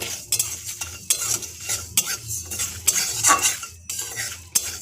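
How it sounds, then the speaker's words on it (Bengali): Cumin and fennel seeds stirred in a hot pan for a tamarind pickle: close, brisk scraping and clinking of a spoon against metal in quick irregular strokes, with a faint sizzle underneath. "এরপর খানিকক্ষণ নেড়ে দিতে হবে। একটু গরম হয়ে এলে আমি তাতে দিয়ে দেবো জিরে আর এক মৌরি।"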